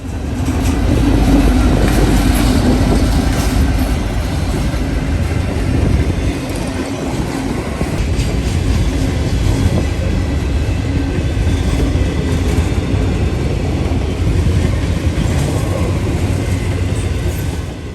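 Norfolk Southern freight train with a mid-train DPU, NS 1068, in Erie Heritage paint, passing on a Sunday morning. A loud, steady rumble of wheels and railcars fills the whole stretch without letup. No voices.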